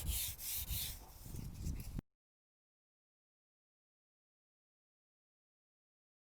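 Car door paint on an MK2 Golf GTI is wet sanded by hand with a close, rhythmic rubbing and scraping for about two seconds, then stops dead into silence.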